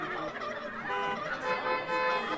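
Turkeys gobbling in a group near a road where they had stopped traffic, a dense, continuous, fairly loud burble of overlapping gobbles and fowl calls with no talk.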